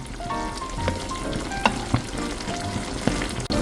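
Sukiyaki of steak, noodles and tofu simmering in a pan, a soft continuous bubbling sizzle with a few light clinks of utensils, close by, no talking.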